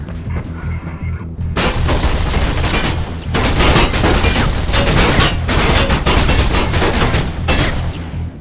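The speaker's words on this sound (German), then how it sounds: "lässt sich ein Heli nicht leicht im Nahkampf besiegen, deswegen werden wir eigentlich dauernd beschossen" Sustained machine gun fire from a helicopter in Mirror's Edge, a loud, dense, continuous rattle of shots with brief gaps between long bursts.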